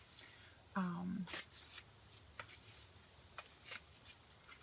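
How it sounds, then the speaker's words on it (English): Soft riffling and tapping of tarot-style cards being shuffled, quiet and close, with a brief voice-like tone near the start. "I shuffle and I cut 3 times."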